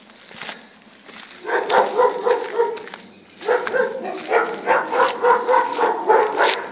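A dog gives a series of rhythmic, yelping barks up close in two bursts, each a quick run of repeated high calls.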